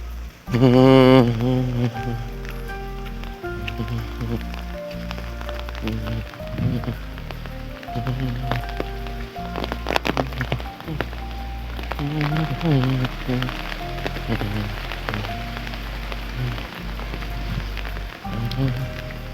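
Steady rain falls throughout in Bhola, a continuous wash of drops on a hard surface, with a rhythmic low thumping and faint voices in the background.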